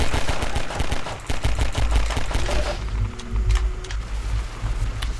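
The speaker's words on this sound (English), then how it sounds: "I'm literally firing hot lead into his chest." Rapid automatic gunfire from a weapon in Half-Life 2, a dense stream of loud, close shots cracking in quick succession with brief breaks and heavy low rumble throughout.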